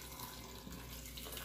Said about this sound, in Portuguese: Vamos colocar um pouquinho de água fervendo